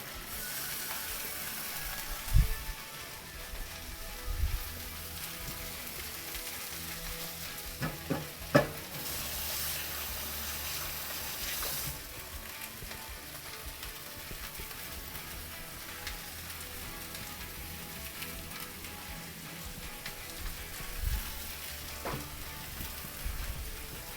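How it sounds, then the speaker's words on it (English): Pork sizzles and fries steadily in a hot pan, with occasional sharper clanks and scrapes of stirring rising above the continuous hiss. "pork going into our pan"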